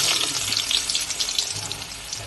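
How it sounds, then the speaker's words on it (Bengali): Chopped garlic fries in hot oil for chilli chicken, giving a steady close crackling sizzle with a bright hiss that holds evenly throughout. "রসুন কুচি দিয়ে দেওয়া হচ্ছে"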